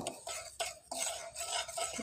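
A spoon clinks and scrapes against a bowl as cappuccino grass jelly drink ingredients are stirred, in short bursts with brief pauses, close and fairly clear.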